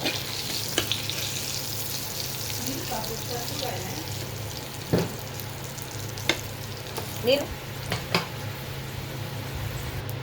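Bitter gourd frying in a pan along with other vegetables, a continuous close sizzle with occasional stirring clinks and scrapes, steady and moderately loud with no talk.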